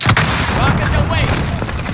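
A rocket fired and exploding in Call of Duty: Modern Warfare (2019) multiplayer, a loud close boom with a rumbling tail, under game voice announcements.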